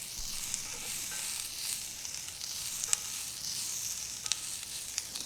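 Onions and redfish sizzle together while cooking on a grill, producing a soft, steady hiss with occasional small pops and crackles, moderately close and without talk.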